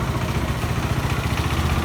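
Benelli TNT25 motorcycle engine warming up after an oil change with Motul oil, a close, loud, steady idle with a rapid even throb and light mechanical clatter.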